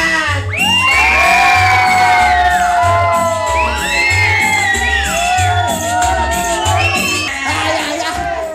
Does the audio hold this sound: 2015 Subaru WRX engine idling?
no